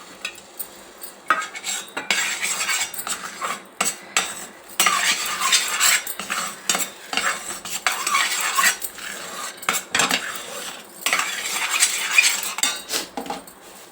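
A spoon scrapes and clinks against a pan as dry nuts are stirred into sticky syrup for chikki, in close, uneven bursts of metallic stirring without talk.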